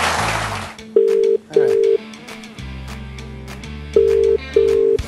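Telephone ringing tone during a call, with four steady beeping tones in two pairs over low background noise and some talk between them.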